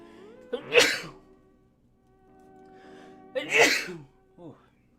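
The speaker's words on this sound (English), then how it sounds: "Oh, dude, I'm about to sneeze." Two loud, close sneezes a few seconds apart, each a sharp explosive burst, with a faint gasp after the second.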